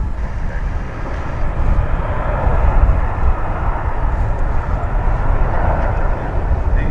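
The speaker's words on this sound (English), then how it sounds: "Now an American Airlines jet." An American Airlines Airbus A321 jet roars on the runway at DFW airport, a loud, steady rumble with broad rushing noise that swells slightly in the middle and holds throughout, with no talking.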